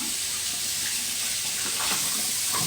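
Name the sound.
tap water running while rinsing face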